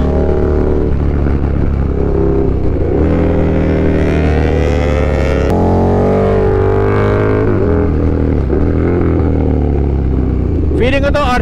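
A KTM Super Duke motorcycle engine roars loudly and continuously while being ridden along the Marilaque highway, its pitch rising and falling with throttle changes and heavy wind rush over the top.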